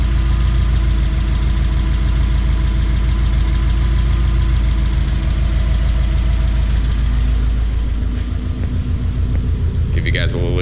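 Subaru STI engine idling with a steady low exhaust rumble, continuous and fairly loud throughout, with a faint brief high whine near the end.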